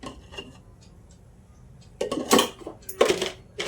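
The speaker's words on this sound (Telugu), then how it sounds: "నేను గిన్నె పెట్టి ఆయిల్ పోసుకుంటున్నాను దాని పోపు కోసమని." A pot set down on a stove and oil poured in for tempering while cooking ulavacharu, Andhra horse gram soup: a quiet clink early on, then two louder metallic scrapes and rattles near the end.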